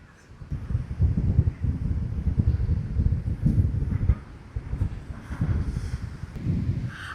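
Strong wind on a beach at Santa Ponsa, Mallorca, on a choppy day: heavy gusting buffets the microphone in loud, rumbling surges with brief lulls, and no one speaks.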